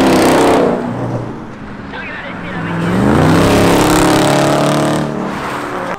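A Ford Mustang leaving a Cars & Coffee meet on a wet road revs hard and accelerates away, the loud engine note rising and falling in two surges, with people talking nearby.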